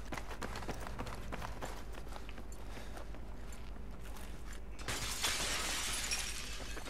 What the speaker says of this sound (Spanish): Que se está rompiendo tantos cristales al lado mía.